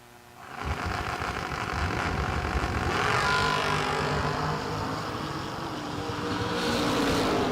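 Drag racing cars launch hard off the line at a season kick-off event, their engines swelling into a loud, sustained roar that surges again near the end.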